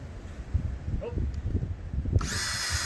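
A power drill driving screws into the wood of a backyard tree house. The motor whines into a loud, steady buzz partway through, after rustling handling noise and a faint voice.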